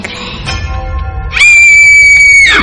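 A woman's loud, sustained high-pitched scream cuts in abruptly over a low rumble of horror-story background music and rings for about a second before breaking off.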